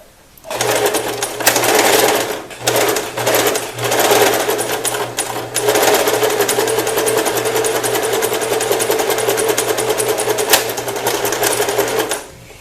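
A sewing machine stitches an invisible zipper with backstitching at the start and end, a loud, close motor whir and rapid needle chatter broken by a few short stops, then running steadily to the end.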